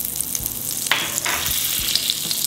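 Butter sizzling in a pan over medium heat for pineapple fried rice, a steady close hiss with a few brief crackles and clinks, no talking.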